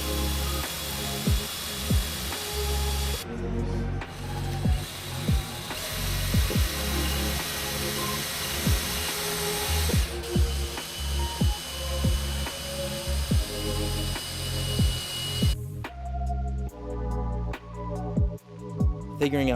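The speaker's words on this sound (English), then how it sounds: "Time to drill some pocket holes to attach the legs to the top." A power drill drives pocket holes into cedar 2x2s, its motor whirring in repeated bursts and stopping in between, with some clicks and handling noise.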